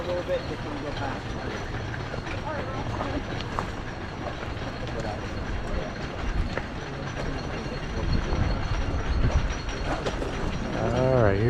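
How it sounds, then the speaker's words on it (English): A roller coaster train climbing the lift hill at Kings Island, a low rumbling clatter that grows louder toward the end, with outdoor crowd noise and talk over it. "I can hear a train coming right now, right up the lift."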